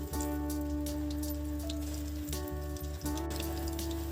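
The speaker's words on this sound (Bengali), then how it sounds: "তেলটা গরম হয়ে গেছে আমি একে একে ছেড়ে দিচ্ছি কোপ্তাগুলো" Pointed gourd koftas dropped into hot white oil, sizzling steadily with a dense, even crackle throughout, loud and close.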